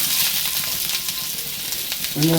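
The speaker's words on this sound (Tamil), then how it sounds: "அதை எடுத்து அப்படியே லைட்டாக ஃப்ரை பண்ணுங்கள்." Onions frying in a pan give a loud, steady, close sizzle with faint stirring scrapes throughout.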